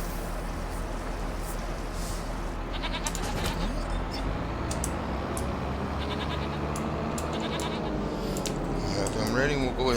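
Goats bleat in a Farming Simulator 25 farmyard, several calls standing out over steady game ambience and a low hum, with a person talking throughout.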